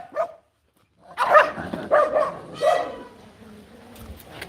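Several dogs bark in short bursts during a live stream where a chicken toy or treat is being thrown to them, a single yip first, then three louder, close barks in quick succession.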